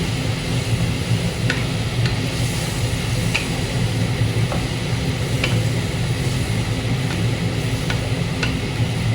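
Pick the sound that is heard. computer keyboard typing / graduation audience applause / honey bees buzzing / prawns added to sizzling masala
prawns added to sizzling masala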